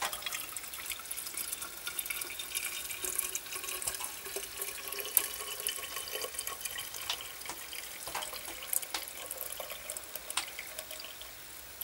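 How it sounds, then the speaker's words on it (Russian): Hot water pours into an Arktika thermos holding pieces of chaga birch mushroom, a continuous close trickle and splash that stays steady and fairly quiet from start to finish. "Теперь заливаем горячей водой"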